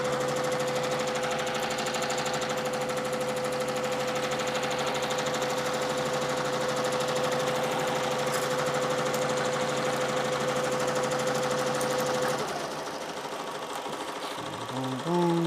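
A multi-needle embroidery machine stitches a hat with a steady, loud mechanical chatter and a constant tonal whine, running evenly for about twelve seconds before slowing and stopping.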